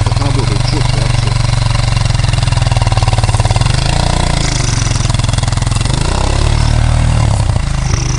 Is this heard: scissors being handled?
no